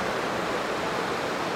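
Nile Creek's waterfall pours in a steady, dense wash of white noise, close and unbroken for its brief length, with no voices over it.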